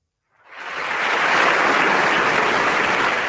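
A burst of studio applause is played on an Italian radio program, rising quickly from silence into a full, steady wash of clapping from a large crowd that holds to the end.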